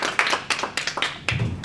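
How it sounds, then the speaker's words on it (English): Children in a classroom give a short round of clapping for a classmate, a few sparse, uneven bursts of claps spread over about two seconds. "Can you give her a clap?"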